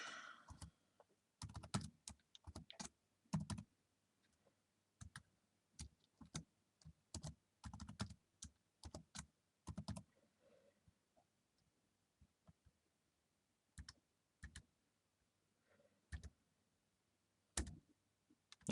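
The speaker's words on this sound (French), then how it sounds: "Ok, donc j'écris Pierre" Typing on a computer keyboard while entering a user name on a Windows server, with bursts of light close key clicks separated by short pauses and long quiet gaps, and no voices.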